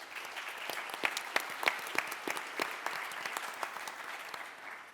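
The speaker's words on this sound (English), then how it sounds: "And why don't we give a quick round of applause." Audience applause at a nuclear energy summit conference, a steady wash of many hands clapping at moderate level with a few sharper individual claps, continuing evenly throughout with no talk.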